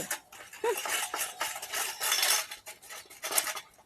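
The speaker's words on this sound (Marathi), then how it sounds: "काय एवढा आवाज करताय माझ्या माहेरची भांडी आहेत ती" Metal pots and dishes clatter and clink repeatedly in a busy, irregular rhythm, close by, as they are scrubbed with soap and stacked at a sink.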